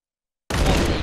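Gunfire from a Counter-Strike match: after half a second of silence, a loud burst of dense, sustained gunfire crackle starts abruptly and runs to the end.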